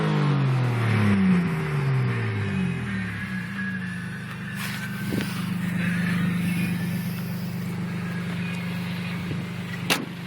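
A 1994 Mazda 626 LX V6 engine cranks and catches, rising through a quick rev before settling into a steady, smooth idle, with a couple of sharp clicks near the end.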